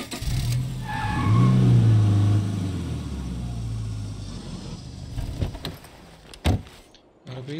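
A car in the zombie survival game State of Decay 2 drives and revs, its engine surging loudly early on then settling into a steady run, with a couple of sharp knocks near the end.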